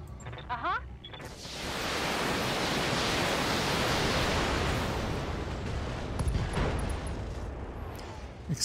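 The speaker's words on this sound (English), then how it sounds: "Explosions, explosions." A sustained roaring burst of explosive noise from the video game Battletech swells up after a second and rumbles on, loud and broad, fading slightly toward the end.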